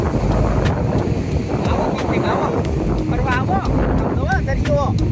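Heavy wind buffeting the microphone over the rumble of big sea waves at Chorwad beach, Gujarat, loud and continuous, with faint voices and chirpy sounds in the background.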